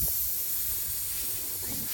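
Air hisses steadily out of a punctured tire being plugged, a continuous bright rushing hiss at moderate level with faint low rumbles beneath, no voices.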